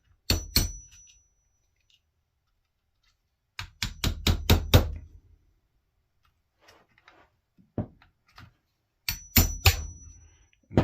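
Sharp metallic hammer taps on a hand-made punch driving tight pins out of a new Taurus TX22 pistol frame over bar stock, heard as three separate bursts: a quick double strike, a fast run of five, then another cluster, with quiet gaps between.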